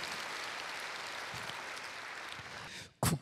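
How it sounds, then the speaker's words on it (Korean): A church congregation claps together in sustained, even applause that fades out shortly before the end, followed by a brief loud burst. "여러분 박수 한번 해주실까요?"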